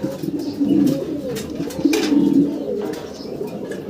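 King pigeons cooing in cages at a pigeon farm, deep throaty rolling coos repeating close by in overlapping phrases, with no talking.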